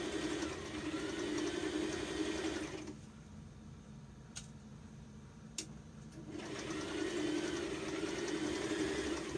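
A sewing machine stitching along the edge of a dress hem, with a steady close mechanical whir that stops for a few seconds, broken by a couple of sharp clicks, then starts running again.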